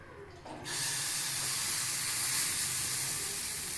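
Red lentil pancake batter hits an oiled pan and breaks into a loud, sustained sizzling hiss that begins abruptly and continues steadily to the end.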